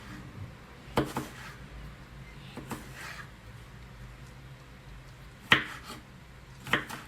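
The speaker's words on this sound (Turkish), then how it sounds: "Soğanı, domatesi, patlıcanı küp küp doğradım." A few sharp knife strikes on a cutting board, chopping onion, tomato and eggplant, spaced irregularly with quiet gaps between them, close by.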